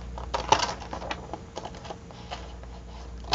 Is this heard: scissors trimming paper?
yes